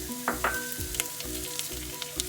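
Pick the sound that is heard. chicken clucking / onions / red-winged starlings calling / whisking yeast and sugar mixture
onions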